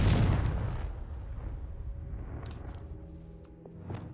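A Confringo fire spell blast in Hogwarts Legacy opens with a loud, deep booming burst that rumbles and fades over a couple of seconds, followed by faint magical chimes and a softer whoosh near the end.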